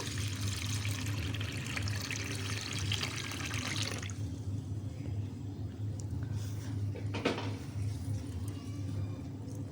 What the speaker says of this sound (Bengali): এখন মটর ডালগুলোকে আমি ভালো করে ধুয়ে নিচ্ছি বারবার জল পাল্টিয়ে পাল্টিয়ে